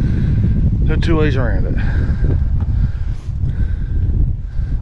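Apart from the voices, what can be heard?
wind on Cadillac Mountain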